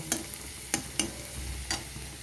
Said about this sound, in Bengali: রসুনটাকেও আমি ভেজে নেব